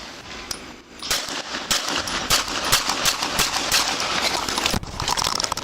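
Sharp, loud handgun shots fired at a police officer come in a rapid, irregular burst, with metallic clatter between the reports in a noisy outdoor scene.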